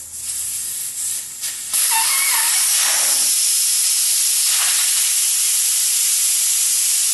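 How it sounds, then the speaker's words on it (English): Air hisses out of a car tire after its valve core is removed: a sudden, loud, steady rush that starts a couple of seconds in and keeps going at full strength to the end. "it takes out the valve, and it'll blow air all over the place"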